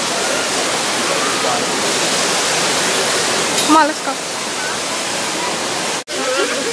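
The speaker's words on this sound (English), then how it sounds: "Man, look how big this waterfall is." A large waterfall in Puerto Rico roars as a loud, continuous wash of rushing water, with people talking briefly over it.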